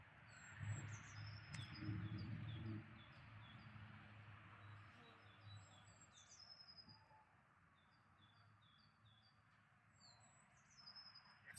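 Birds sing outdoors in a garden, with faint, scattered high chirps and tweets repeating over a low background hum throughout.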